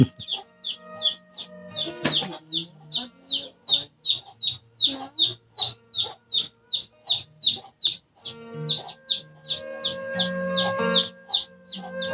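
Chickens clucking in a steady, rhythmic series of short sharp calls, close and fairly loud, with a rooster-like fowl among them and some low background noise throughout.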